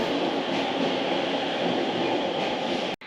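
A Sobu Line local train pulls into a station platform on a late-night turnaround service to Tsudanuma, giving a loud, steady rumble that holds throughout before cutting off abruptly near the end.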